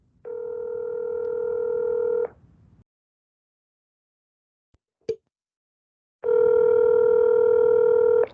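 Telephone call audio: a steady dial tone or ringback burst of about two seconds, a short click or beep, silence, then another long tone burst, clear and alone without talk.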